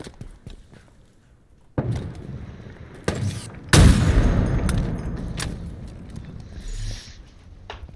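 Gunfire in Halo Infinite, a few sharp bursts and one heavy booming blast with rumbling decay, loud and close, mixed with other game noise.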